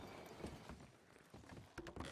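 Horse hooves clip-clop softly in Red Dead Redemption 2, an uneven run of muffled thuds at low volume with some faint rustling mixed in.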